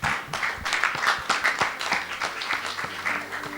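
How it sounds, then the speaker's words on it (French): An audience at a prophetic church service claps steadily for Jesus, a dense, sustained round of hand-clapping with rhythmic accents throughout. "Clap your hand for Jesus."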